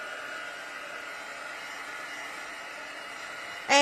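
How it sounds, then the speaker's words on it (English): A heat tool blows steadily, drying painted foil on a Stampin' Up! card for a Black Ice technique; a constant whooshing hiss runs nearly four seconds, then jumps louder at the very end. "So just give it a quick little heat set."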